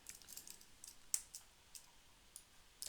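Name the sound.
typing on a computer keyboard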